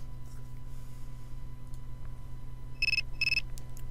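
A telephone rings in the video game Persona 3 FES, two short electronic ring bursts near the end over a steady low game hum.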